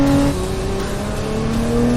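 A Lotus Emira sports car engine hums and revs under load on a track, a loud close steady drone with shifting pitch and no talk.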